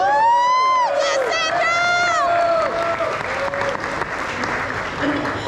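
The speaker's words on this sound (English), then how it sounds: "please give him a round of applause" A large crowd applauds and cheers for a musician at a live show, loud dense clapping throughout, while a tonal voice or effect sweeps through the opening seconds and fades under the applause.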